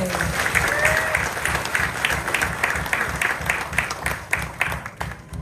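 Audience applause for hula dancers at a Hawaiian musical instrument performance, a steady wash of many hands clapping that holds for several seconds, with a few cheers and a faint whistle mixed in.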